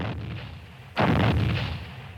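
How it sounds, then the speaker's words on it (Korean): Heavy gunfire and artillery blasts erupt in a Korean War battle scene of a radio drama, a quieter distant rumble giving way to a loud, booming burst of shots that holds and slowly fades. "총성은 무성하대 말이야"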